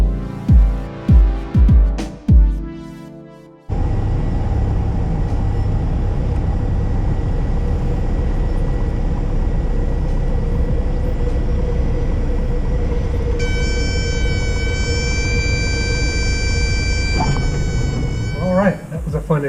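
Small airplane on a calm-morning straight-in approach and landing on runway 25 at Camas Grove Airport, a steady loud engine drone filling most of the recording after a few brief thumps, with a whining tone joining near the end.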